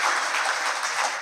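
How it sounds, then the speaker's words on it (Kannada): An audience claps in a dense, steady burst close by, filling the short moment with no voices on top. "ಮೊದಲೇ ಚಪ್ಪಾಳೆ ತಟ್ಟಬೇಡ್ರಿ"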